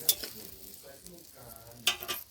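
Pangas fish with spices simmering and frying in a pan with a little water, giving a quiet sizzle and stirring scrapes, with two sharper bursts of spatter near the start and end.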